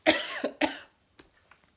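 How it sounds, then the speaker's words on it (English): Two loud, close coughs in quick succession, followed by a few faint clicks and small sounds in near silence. "it's not a COVID cough."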